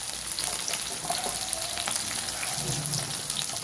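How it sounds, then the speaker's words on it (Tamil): Chopped small onions sautéing in oil for Tamil poondu (garlic) kulambu, a steady close frying sizzle with light stirring scrapes running throughout, no voice. "பொடிசாக வெட்டினதை போட்டு நல்லா வதக்கிக்கலாம்"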